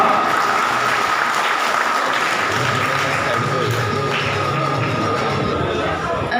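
An audience claps for an award winner at a ceremony, a steady wash of applause with some thumps and shuffling beneath it and a voice faintly audible through it.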